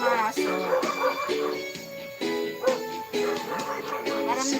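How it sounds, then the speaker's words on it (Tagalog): Pet dogs bark in a steady series of short, close, loud yaps repeating in quick rhythm, with a few yips mixed in. "Marami kami dito alagang aso."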